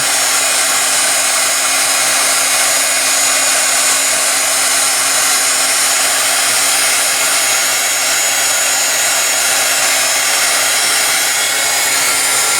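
A heat gun blows steadily while heating clear liquid clay on Easter cross crafts, a loud constant close whooshing roar with an even hum throughout and no talking.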